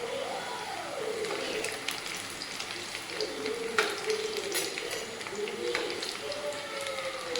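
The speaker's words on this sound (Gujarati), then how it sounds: "ગોલ્ડ બ્રાઉન થાય ત્યાં સુધી આપણે તળવા દેવાના છે" Churma ladoo dough frying in a small amount of oil over a medium flame gives a steady, soft sizzle and bubbling that runs throughout without a break.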